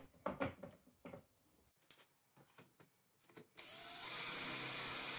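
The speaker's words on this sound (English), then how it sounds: "we're going to use those holes on the jig to drill a" A power drill bores locating holes in a wooden piece held in a jig. A few seconds of quiet knocks and handling come first, then a steady, close, loud whirring runs to the end.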